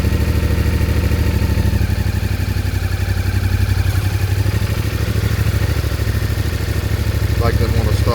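A CFMOTO Ibex 450 motorcycle, ECU-tuned to fix jerky throttle and surging, pulls away smoothly on a street, its loud, close engine droning steadily in a low rumbling pulse that builds slightly toward the end, with a voice talking over it.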